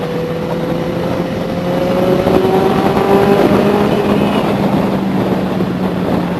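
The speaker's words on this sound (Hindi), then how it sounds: "टनल में एक नंबर आवाज आती है बाइक की।" Benelli 600i motorcycle engine droning and revving inside a tunnel, a loud, steady exhaust roar that swells in the middle and carries on without talk.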